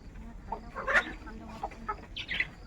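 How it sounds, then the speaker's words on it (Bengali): Chickens cluck in short, scattered bursts nearby, a few soft calls rising and falling over quiet background noise. "এই যে মুরগিগুলো দেখতে পাচ্ছেন তো"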